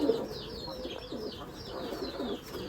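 Pigeons at a pigeon farm in Bangladesh cooing in soft, repeating rolling phrases close by, with faint background noise and no clear speech.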